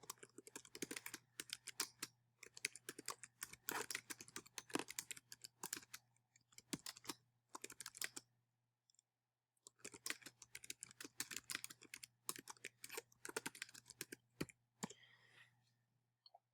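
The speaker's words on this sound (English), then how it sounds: "And I can even type in an explanation." Rapid clicking keystrokes on a computer keyboard, typed in bursts with short pauses between, close and fairly faint.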